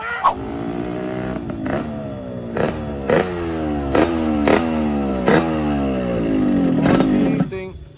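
Motorcycle engine revving in repeated rising bursts, each climbing in pitch then dropping, close and loud with brief clattering knocks between revs; people talk nearby.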